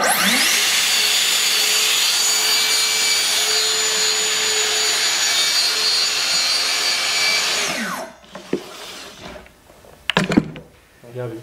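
A circular saw set to a shallow 2–3 mm depth cuts a splinter guard strip, a loud steady whine for about eight seconds before spinning down, followed by a few clicks and knocks.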